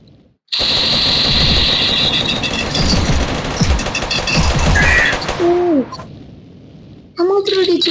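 Rapid bursts of gunfire from the Mini Militia video game, including a double gun, crackle loud and dense for several seconds, broken by short gaps and small electronic effects.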